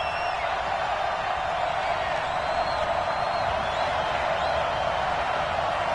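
Steady stadium crowd noise from a football video game, a continuous broad roar of cheering spectators building ahead of a big third down, sustained throughout with no distinct peaks.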